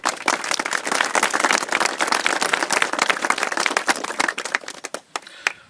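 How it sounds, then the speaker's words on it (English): Warm, dense applause fills an outdoor IRA commemoration crowd, steady crisp clapping from many hands for several seconds before thinning to a few last claps. "if you could please give them a round of applause"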